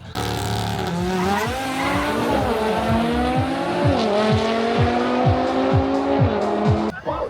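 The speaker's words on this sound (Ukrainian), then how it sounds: "на фоні мене повертаються зараз авто з фініша" Race cars at a drag racing season final in Odesa drive back past from the finish. Engines rise and fall in pitch across the clip, with tyres squealing in a run of short chirps and loud throttle bursts.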